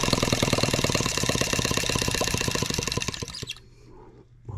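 A small Microcosm H76 twin engine in a repair setting runs with a fast, even, loud chugging beat, then cuts out abruptly and goes near silent, with a brief faint noise at the very end.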